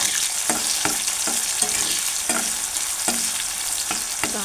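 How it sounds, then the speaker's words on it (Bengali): Onion browns in a pan with a bright, steady sizzle, while a spatula knocks and scrapes in quick, repeated strokes close to the listener. "এবার আমি দিয়ে দিলাম পেঁয়াজটা একটু ব্রাউন কালারের করবো।"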